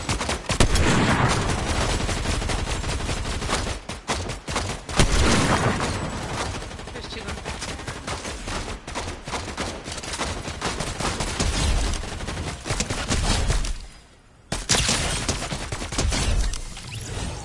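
Rapid bursts of gunfire in an online shooter game, including machine-gun fusillades and single shots, loud and continuous with brief pauses, the longest near the end.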